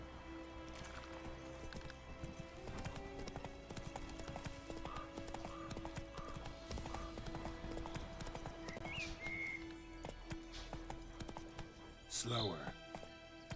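Roach, the horse in The Witcher 3 video game, gallops with fast, rhythmic hoofbeats and a brief whinny near the end, under game music and a spoken word.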